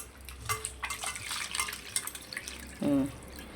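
Tap water running into a sink while raw crabs are washed for a crab curry, a steady splashing stream with small clinks and a louder gush near the end, close by.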